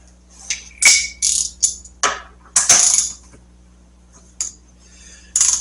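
A wrench breaks the torque on a fork bolt of a Harley-Davidson Road King during front fork disassembly, producing a series of close, sharp metallic clicks and clanks, some in quick succession, with brief pauses between them.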